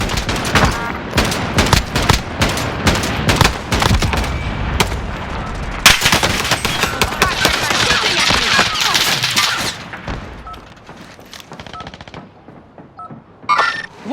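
Video game gunfire in Warzone: dense bursts of rapid automatic shots and overlapping reports, loud and close, followed by a quieter stretch ending with a few more shots.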